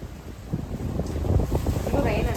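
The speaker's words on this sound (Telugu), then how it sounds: "అసలు ఏం వస్తుందో గాలి" Strong, gusty wind tears through backyard trees as rain begins, a rough rumbling roar buffeting close to the microphone, rising and falling in uneven surges.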